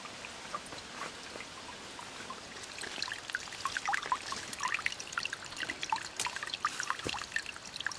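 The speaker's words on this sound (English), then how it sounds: "So as the water drips over that rock and it falls into the little river, the creek," Water drips and trickles over rock into a small creek, a soft irregular patter of close droplets over a faint steady flow, growing a little busier toward the end.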